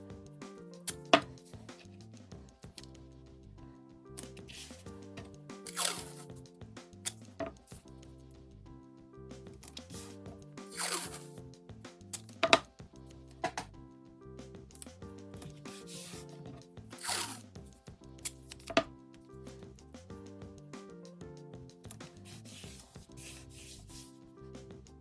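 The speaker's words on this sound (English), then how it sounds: "I begin the painting with taping the paper down to a board." Watercolour paper being taped down to a board: repeated soft rubbing and pressing strokes with occasional crinkly tearing and tape-peeling bursts, close and fairly quiet, spread through a steady rhythm of handling.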